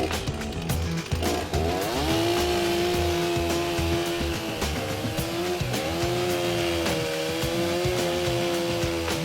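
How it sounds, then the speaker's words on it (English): A loud, continuous chainsaw whine that rises in pitch, then holds steady as it bites into metal pipe, running the whole time with no talk. "I can hear the chainsaw."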